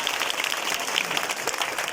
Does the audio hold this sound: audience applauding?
yes